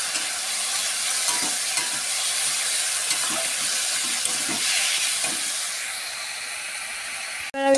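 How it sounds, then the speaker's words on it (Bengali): Cumin, turmeric and chilli powder masala sizzles and hisses steadily in a pan as water is poured in, a constant broad wash of frying noise with faint scraping, ending in a short louder burst. "আমি পরিমাণ মতো জল দিয়ে দিলাম।"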